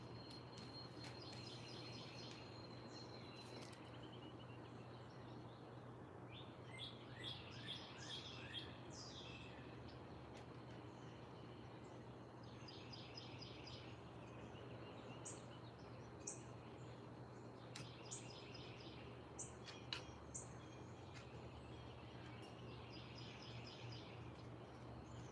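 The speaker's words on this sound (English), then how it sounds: "I was just looking at the sky, listening to the birds" Birds sing at sunrise on a Sunday morning in Charlotte, with faint, distant chirps and trilling phrases recurring over a low steady background hum, and no voices.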